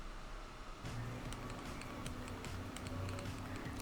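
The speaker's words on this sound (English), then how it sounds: "It sounds like a keyboard." Rapid keyboard-like clicking from a gaming recording, sharp irregular taps in quick bursts over a steady background hum, fairly close and moderately loud.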